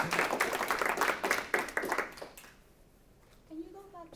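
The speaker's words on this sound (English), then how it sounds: "Let's give him a round of applause" Brief applause from an audience after a presentation on running a construction business, a quick burst of clapping over about two seconds that fades out, followed by a voice starting to speak.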